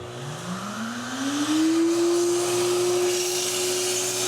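A Giraffe Tools retractable vacuum cleaner hose reel spins, a motor whine that rises steadily in pitch and then holds a sustained hum, close and fairly loud with no talk.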